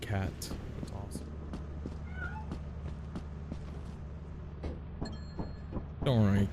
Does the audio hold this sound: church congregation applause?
no